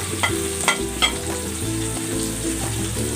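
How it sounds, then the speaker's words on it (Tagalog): Garlic sizzles in a pan for a restaurant-style shrimp and vegetable stir fry, a constant close frying hiss with a few sharp clicks of a utensil against the pan and a low tonal bed, likely music. "igisa natin ang bawang"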